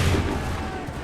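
A volley of musket fire in the video game Assassin's Creed III, a loud, dense, booming burst of several shots overlapping at once, with shouted battle orders around it.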